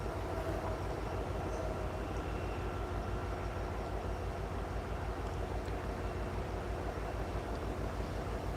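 Norfolk Southern locomotive train passing trackside, a steady low rumble and rolling drone held at constant loudness throughout, distant rather than close.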